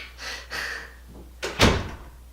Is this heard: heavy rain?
no